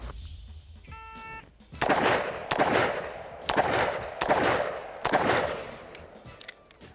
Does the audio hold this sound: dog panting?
no